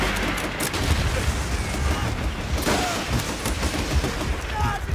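Dense gunfire from Call of Duty: World at War co-op play, with sustained rifle and machine-gun bursts and booms filling the whole stretch loudly and continuously.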